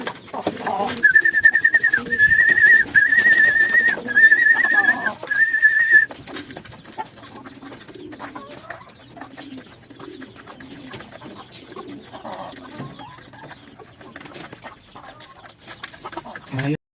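Pigeons coo softly in low murmuring bursts, with a loud, steady whistling tone over the first few seconds and faint rustling throughout.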